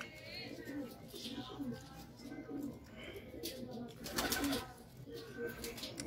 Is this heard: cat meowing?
no